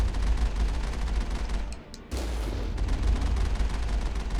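Dense, rapid gunfire crackles throughout a Mass Effect firefight, loud and continuous apart from a brief lull in the middle, with no talking over it.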